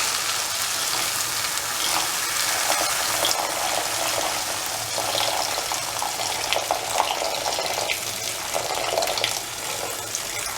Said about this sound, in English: Pour in 750 ml of water.